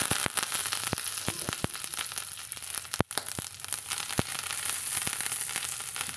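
Curry leaves and mustard seeds sputter in hot oil during tempering for a ridge gourd masiyal, a steady close sizzle broken by sharp crackles and pops, one especially loud burst near the middle.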